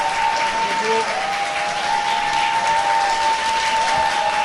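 Audience applause welcoming candidate Song Gap-seok onstage: a steady, dense wash of many hands clapping throughout, with a thin tonal hum running beneath and no one speaking over it.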